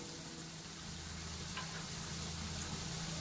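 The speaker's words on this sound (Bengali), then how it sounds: "আলুগুলো একটু হালকা লাল করে ভেজে নেব।" Potato pieces fry in hot oil, giving a steady, fairly faint sizzle with light crackling that holds evenly the whole time.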